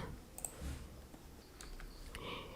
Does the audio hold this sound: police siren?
no